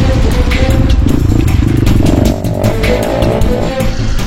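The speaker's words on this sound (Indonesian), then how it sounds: "Beberapa kali saya harus turun agar motor bisa lolos dari jerat tanah liat." A motorcycle engine labours loudly and steadily as the bike struggles through sticky clay mud on a rural Borneo track, with clattering and revving close by throughout.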